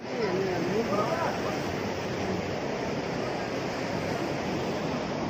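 Hot spring water in Sikkim flowing and splashing in a steady, close rushing wash, with faint voices under it early on.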